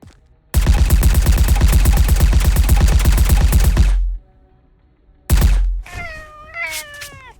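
Cat meowing in the Garry's Mod map Gm_Everdawn, heard after a long loud burst of rapid automatic fire and a short blast, several close, drawn-out meows near the end.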